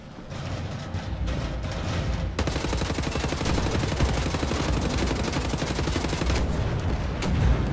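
Rapid automatic gunfire in Wolfenstein: The New Order, a dense, loud, sustained stream of shots after a brief quieter lead-in, with a few sharper reports near the end.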